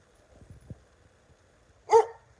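A dog named Zena gives a single short, sharp bark mid-distance outdoors while chasing a squirrel, following a few faint low rustles and thumps.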